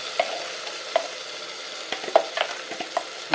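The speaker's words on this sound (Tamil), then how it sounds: "இதை நல்லா வதக்கணும்" Ground paste being sautéed in a pan for Udupi tiffin sambar, with soft scraping stirs and light sizzling heard in sporadic strokes, close and fairly quiet.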